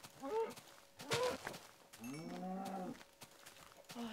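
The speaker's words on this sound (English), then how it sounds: "Oh my God, cows!" Cows lowing in the Minecraft video game, several drawn-out moos one after another at moderate loudness, with no talking over them.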